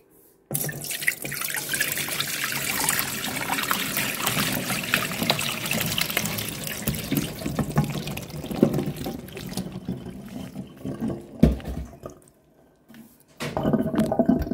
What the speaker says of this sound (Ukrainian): Миємо вишні